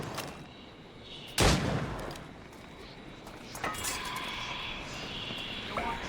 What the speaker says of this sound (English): I have a clear shot! Ready to open fire!